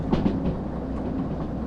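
Locomotive running in the Derail Valley train simulator game, heard as a close, steady rolling rumble with a few rhythmic clicks from the wheels over the rails early on.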